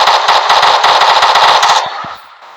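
Rapid automatic gunfire from a weapon in a modded video game, a loud dense burst of quick shots lasting nearly two seconds, followed by a couple of softer mechanical clicks as it stops.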